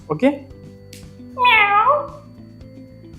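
A recorded cat meow plays back from a tape recorder in a classroom, one drawn-out meow over a steady hum, and a person speaks briefly just before it.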